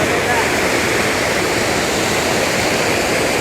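A river in flood after heavy monsoon rain in a village, its water rushing in a loud, continuous broadband roar that fills the whole stretch without a break.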